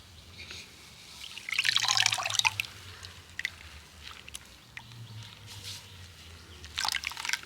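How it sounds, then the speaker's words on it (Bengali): Neem leaf juice pouring into water in a short trickling splash, followed by scattered drips and light liquid sounds in a quiet room with a faint low hum and no talking. "পুরো নিম পাতার রসটা আমি দিয়ে দেবো"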